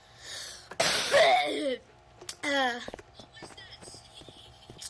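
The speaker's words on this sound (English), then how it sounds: "That was a cough." A sudden, harsh cough bursts out near the start, followed by a person talking.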